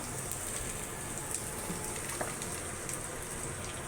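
Onions dropped into hot oil in a pan after frying fish, giving a steady, rain-like sizzling hiss, faint and even throughout with no talking.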